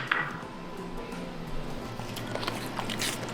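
A pet crunches on fruit, with a steady run of soft close biting and chewing crackles over a low background hum, and no one speaking.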